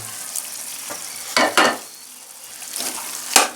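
Sooji halwa with raisins, almonds, coconut and cardamom being stirred in a hot pan, with a few short scraping, sizzling strokes in a quiet kitchen and no talk.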